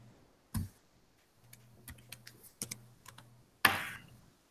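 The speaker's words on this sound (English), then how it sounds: "Miss Sparks will try to type in the problem right" Keys tapped on a computer keyboard to enter an algebra problem into Desmos, a few scattered clicks and a short burst of quick keystrokes with louder thumps at the start and end, close by in a quiet room.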